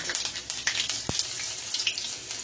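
Green chilies and spices crackle and sizzle in hot mustard oil for an Odia chara fish curry, a steady bright hiss with scattered pops and a single low thud partway through.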